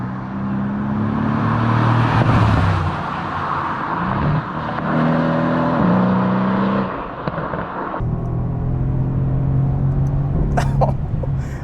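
A 2017 Mercedes-AMG C63S Coupe drives hard on a winding Southern California road, its engine loud and close, revving up and down through the gears with sharp throttle lifts, shift blips and crackles between pulls.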